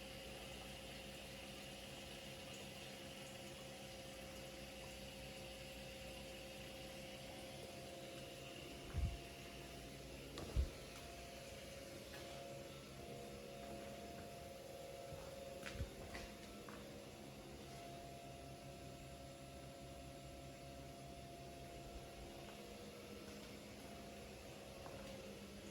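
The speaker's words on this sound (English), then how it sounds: "That is the pumps, the dual pumps working as it's pumping the fuel out of the tank" Dual in-tank fuel pumps whir steadily as they drain fuel out of a vehicle's tank, a faint, constant hum with a couple of brief clicks partway through.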